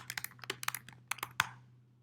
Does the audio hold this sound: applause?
no